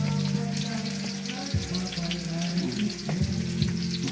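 Chicken and carrots frying in a pan for a fiesta, a constant close sizzle over a low rumbling hum with occasional clinks and a few shifts in tone, no clear talking.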